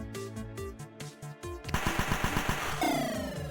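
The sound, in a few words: gunfire from enemy guns in a battle story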